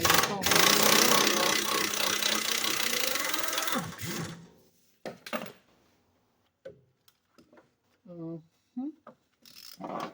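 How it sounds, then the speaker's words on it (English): A wrench works loose a nut during strut replacement on a Triumph Spitfire, making a steady close mechanical whirring for about four seconds, followed by someone talking and a few light clicks. "I got a wrench going on."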